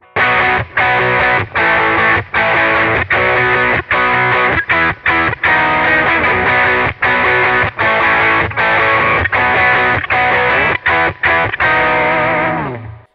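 Loud, heavily distorted electric guitar through a Kemper, EQ'd shallow in the low end, chugging rhythmic chords, bright and buzzy with a thin low end, playing alone for the whole stretch.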